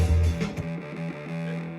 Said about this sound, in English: Bass with distortion.